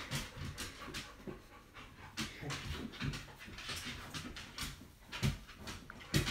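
An excited dog panting rapidly and steadily at close range, with occasional faint whimpers between breaths, alone without talk.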